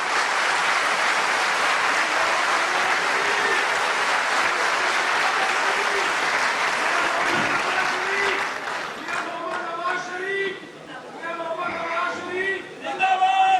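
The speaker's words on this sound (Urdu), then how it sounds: "ان کے لیے آپ سب لوگ تالیاں بجائیں" A large outdoor political rally crowd claps loudly and continuously for several seconds before the applause fades and a man's amplified speech takes over.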